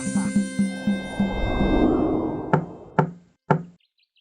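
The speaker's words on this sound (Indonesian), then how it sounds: "Terdengar suara ketukan pintu." Knocking on a wooden house door: a run of quick raps, a brief rumbling pause, then three loud, separate knocks spaced evenly, close and resonant, with no talking.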